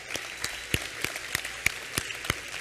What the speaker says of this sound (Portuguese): Vamos aplaudir o Senhor pela vida deles?